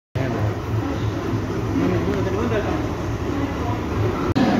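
A passenger train travelling from Amritsar to Patna Sahib, heard from inside as a steady low rumble of wheels and carriage noise, continuous and close, with a brief clunk near the end.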